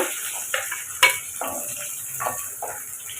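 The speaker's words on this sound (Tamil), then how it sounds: "காரத்துக்கு மிளகாய் இப்போ இதை நம்ம வதக்கி எடுத்துக்கலாம்" Chillies and onion sauté in a pan, giving a soft, steady sizzle. A sharp metal clink of the stirring utensil lands near the middle, among lighter scraping stirs.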